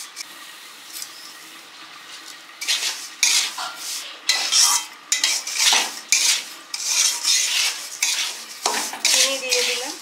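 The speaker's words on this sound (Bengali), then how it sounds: "সুজিটা ভেজে চিনি দেব, ভাজা চলছে এখন" Semolina frying with grated coconut in a pan for sooji halwa: a spoon scrapes and clinks against the metal pan in repeated strokes, with a soft sizzle beneath, close and fairly loud.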